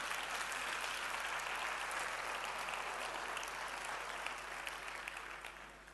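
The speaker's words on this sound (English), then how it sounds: "Give yourselves a round of applause" An audience of educators at an education forum gives itself sustained applause, a dense and even wash of clapping that fades slightly toward the end.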